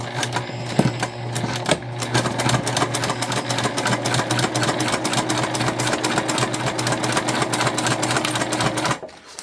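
A sewing machine stitches a bum bag near its zip, running in a steady mechanical whir with a rapid needle patter that starts and stops briefly early on, then continues evenly until it cuts off near the end.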